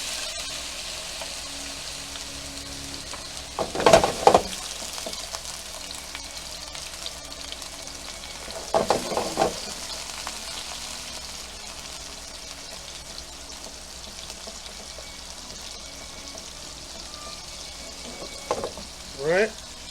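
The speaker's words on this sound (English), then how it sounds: "we're going to fry our shrimp" Shrimp fry in a pan with a soft, steady sizzle, broken by a few louder bursts of stirring or handling, heard up close without voices.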